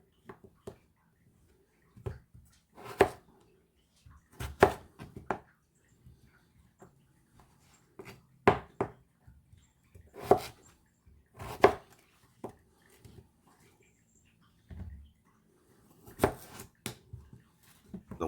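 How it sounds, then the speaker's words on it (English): A knife cuts beef into bite-sized cubes for an Irish beef stew, giving sparse, irregular chops and taps on a board with quiet gaps between the strokes. "I like to do 3 slices, as you can see, and then just cube them into bite-sized pieces."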